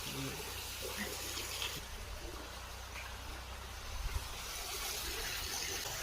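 Water pumped by two motors gushes from a borewell into a well, a constant rushing wash with a low steady rumble, while people talk faintly.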